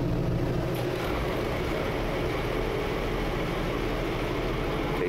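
A 1977 Thompson 44 trawler's Cat diesel engine rumbles steadily at idle after starting, a constant low drone filling the clip with no talk.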